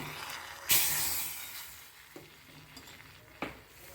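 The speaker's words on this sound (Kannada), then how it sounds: "ಈಗ ಇದಕ್ಕೆ ತುಪ್ಪ ಸಾಸಿವೆ ಜೀರಿಗೆ ಇಂಗು ಮೆಣಸು ಹಾಕಿ ಒಗ್ಗರಣೆ ಹಾಕಿದ್ದೀನಿ" Steady hot-ghee sizzling with a sharp crackling burst near the start and a few smaller pops later, as mustard seeds, cumin, asafoetida and chilli splutter in the pan.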